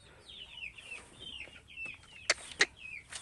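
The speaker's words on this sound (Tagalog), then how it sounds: "yung mga manok" Chickens cluck and chirp in a backyard coop, a steady mix of close, bright calls with two sharper, louder squawks near the end.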